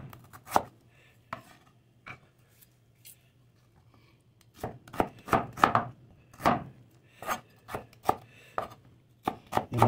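A knife chops onions lengthwise on a cutting board, a string of sharp, uneven cuts that starts sparse and quickens into a steady rhythm, close and fairly loud, with no talk.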